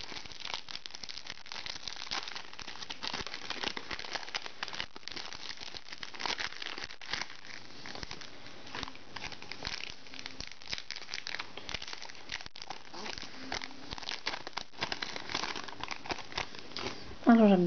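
Pokémon card booster packs are torn open and the cards handled, producing continuous close crinkling and rustling of foil wrappers over a long stretch.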